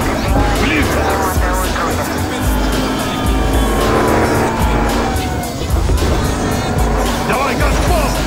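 Car engine in Battlefield Hardline roaring under hard acceleration with tire squeal and skidding, loud and continuous throughout, with game voices over it.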